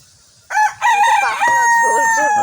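A rooster crows loudly and close by, one long drawn-out call at a village cooking spot. A second, shorter tonal note follows right after it. Faint background noise sits underneath.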